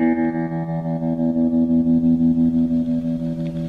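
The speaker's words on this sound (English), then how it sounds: "I'm playing through my old Fender Vibrolux reverb amp with built-in tremolo for a vintage surf guitar sound." Electric guitar played through an old Fender Vibrolux reverb amp with built-in tremolo, sustained chord ringing loud and clean with a steady pulsing tremolo wobble and reverb for a vintage surf tone.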